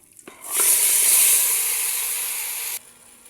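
Camel meat dropped into very hot oil with melted fat and whole spices, bursting into a loud sustained hiss that starts abruptly after a brief clatter and cuts off sharply a couple of seconds later.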